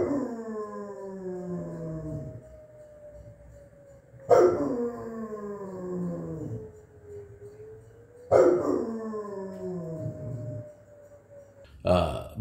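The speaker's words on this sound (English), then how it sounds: "I'm gonna insert a clip in here I took earlier of him just going to town and barking, and Joey saying I have to let him bark." A dog yelps and howls in long, wavering rising and falling cries, with sharp loud bursts recurring roughly every four seconds, close to the microphone and with no talk over it.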